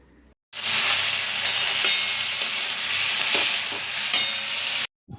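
Vegetable chop filling with chilli and salt sizzles steadily in a hot pan, with scattered scraping and clicking as it is stirred. The sizzle starts abruptly and cuts off just as suddenly near the end.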